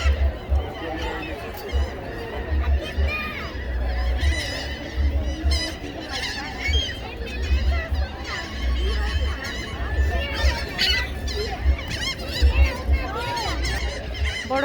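A large duck or goose honking repeatedly on a river at City Island, loud, close and persistent, with scattered voices chattering in the background.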